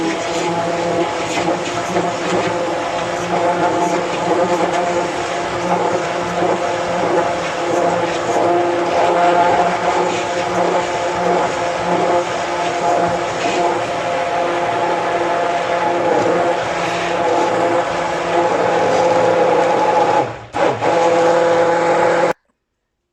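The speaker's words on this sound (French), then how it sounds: "je vais utiliser donc mon mixeur" An electric blender mixes baghrir batter in a home kitchen with a loud, steady motor whine and churning. It runs without pause for about twenty seconds, then cuts off abruptly.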